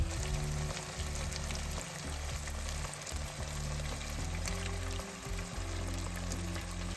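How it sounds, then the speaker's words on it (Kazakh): Cubed meat for a home-style zharkoe fries in a pan while being stirred, giving a steady, fairly quiet sizzle that runs throughout beneath soft background music. "Барлығын жақсылап араластырамыз, етіміздің суы тартылғанша және әдемі болып қуырылғанша."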